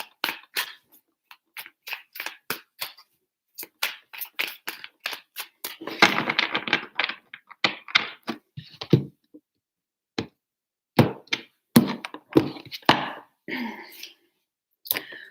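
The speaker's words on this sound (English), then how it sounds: "Three shuffles for Virgo" Tarot cards being shuffled by hand for a reading, giving quick bursts of crisp, papery riffling and soft taps in uneven clusters, close and fairly quiet with short pauses between runs.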